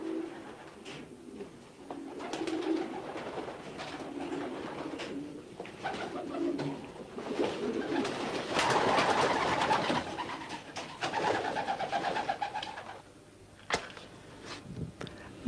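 Pigeons coo in low, throaty rolling calls, several birds close by, with soft rustling and a faint rumble in the background.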